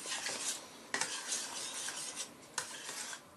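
Chopped sage being stirred into a bacon sauce in a pan, with a steady scraping and clinking of a utensil against metal, a few sharper knocks, and a faint sizzle underneath, close and alone.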